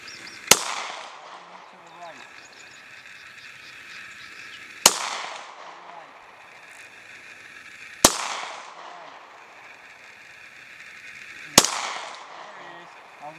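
Four sharp gunshots at outdoor target shooting, each a loud isolated crack spaced a few seconds apart with brief echo, with quiet voices between shots.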